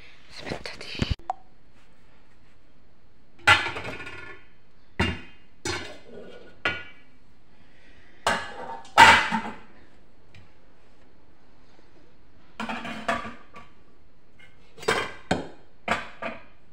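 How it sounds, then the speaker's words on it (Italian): A pasta pot is handled and set down in a home kitchen, giving a series of sharp metallic clanks and knocks spread out over time, with brief quiet speech between them. "Qui ho messo la pentola per la pasta."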